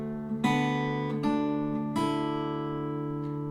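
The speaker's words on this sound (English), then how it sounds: "So measure 3 would sound like this." Measure 3 of the fiddle tune Angeline the Baker on fingerstyle acoustic guitar in drop D tuning: a few plucked, pinched notes over an open bass string ring out clearly and sustain, played alone at a steady, unhurried pace.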